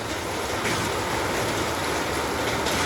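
A torrential downpour falls on farmland with groundnut and cotton crops, a loud continuous wash of rain that stays even and unbroken, with nobody talking.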